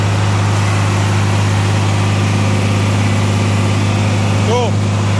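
A tractor engine idles indoors in a smoky shed with an exhaust fan running, a steady low hum holding evenly throughout, loud and close, with a brief faint chirp near the end.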